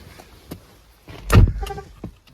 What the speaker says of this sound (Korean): 요거는 자동 잠김, 자동으로 잠길 때 이렇게 소리가 나고요